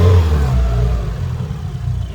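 Turbocharged Mazda Miata engine barely idling in a garage, a rough low rumble with an uneven, clattering pulse that starts slightly louder and then settles.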